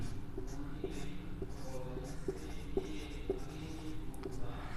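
Chemical names such as methane being written out during an organic chemistry lesson, heard as faint, regular scratchy strokes spaced about half a second apart over a steady low hum.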